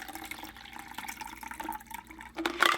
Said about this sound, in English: what I'm going to do first is to add the cold water to the first cup, number one